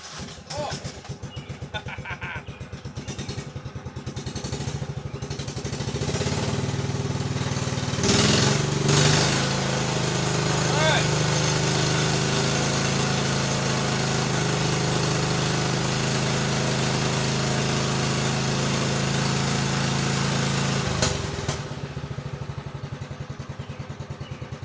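A cranky cold engine cranks and catches in a shop on a warm day, then settles into a steady, rattling, mid-pitched running note that holds loud and close for a long stretch.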